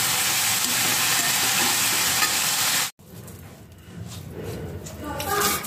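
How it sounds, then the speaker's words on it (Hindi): Potato and radish bhujia frying in a pan, a loud, steady sizzle with stirring, then a sudden cut to a quieter, softer sizzle of the same cooking. "इधर हम आलू और मूली का भुजिया बना लेंगे।"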